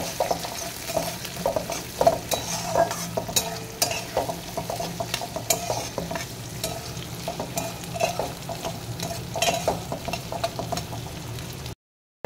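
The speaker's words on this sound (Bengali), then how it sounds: "কাঁচা লঙ্কা পেঁয়াজটা দিয়ে দেব, নিয়ে এটাকে ভালো করে ভাজবো" Onions and green chillies frying with garlic in a pan: close, steady sizzling with frequent scraping stirs, then a sudden cut to silence at the end, no talk.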